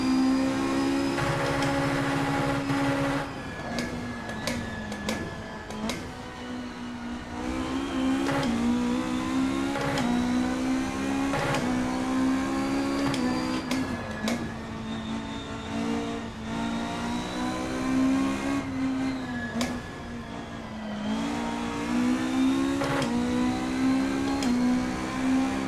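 A race car in Assetto Corsa at the Goodwood Festival of Speed revs hard and bounces off the rev limiter. Repeated climbing engine whines are cut by abrupt stutters and brief shift dips, loud and close throughout with no talk.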